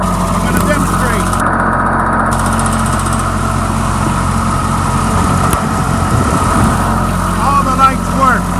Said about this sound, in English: Lot number six is another Wacker with a Lamborghini engine.